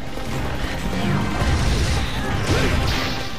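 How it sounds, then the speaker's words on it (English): A Hermitaur crab being smashed in Monster Hunter Freedom Unite, heard as a dense run of whooshing swings and crunching impacts over constant game noise, with no clear pauses. "That's right, you get smashed. Crunch."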